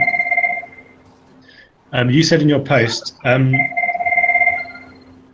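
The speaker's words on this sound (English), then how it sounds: "somebody's phone's ringing." A phone rings with a steady two-tone electronic trill, drops out while a person speaks, then resumes ringing.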